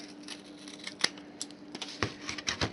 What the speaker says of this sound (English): you come up here and you